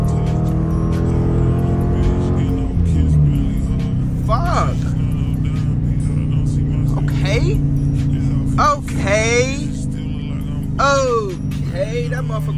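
A Dodge Challenger R/T in sport mode accelerates hard, its engine roaring loudly and steadily up close while someone talks excitedly over it.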